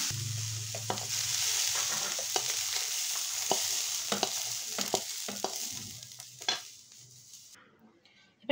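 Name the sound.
vegetables with peas frying and being stirred in a pan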